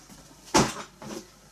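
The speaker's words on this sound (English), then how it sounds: "Taking empty drawers out." A craft storage drawer slides out with a sharp scraping rush, followed by a softer second scrape, close and fairly loud with no talking.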